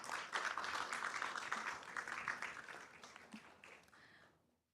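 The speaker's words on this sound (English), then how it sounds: "a lot of applause to him" Faint audience applause at a group discussion session, a thin patter of clapping from a modest crowd that holds steady before tapering off to silence.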